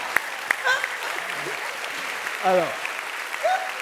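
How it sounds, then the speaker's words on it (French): A studio audience on a French panel game show claps steadily in the background while people talk over the applause. "C'est fou qu'on m'applaudisse pour ça."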